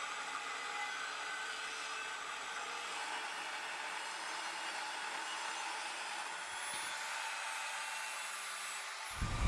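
A power tool cuts steel stock for a homemade press, a steady loud whirring grind that holds for about nine seconds and then stops abruptly.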